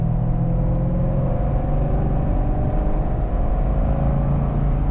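A C6 Corvette engine pulls steadily in 4th gear, with auto rev-matching active, giving a constant loud low rumble and drone with a slight rise in pitch across the stretch and no talking.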